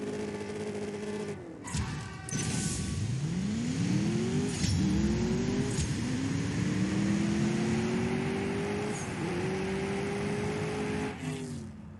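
Mercedes AMG S 63 Coupe in CSR2 launching hard and accelerating through several gears, the engine note climbing repeatedly with brief dips at each upshift, loud and close with no talk.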